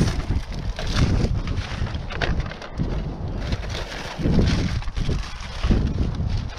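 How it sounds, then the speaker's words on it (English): Strong wind buffeting the microphone in gusts, a rough low rumble that swells and fades throughout with no clear voices. "It's a little windy today."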